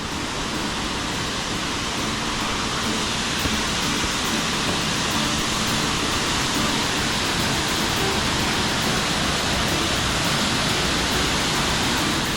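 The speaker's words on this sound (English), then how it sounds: "just enjoy that magnificent waterfall" Murray Falls waterfall pours in a constant, loud, dense roar of falling water, unbroken and without voices throughout.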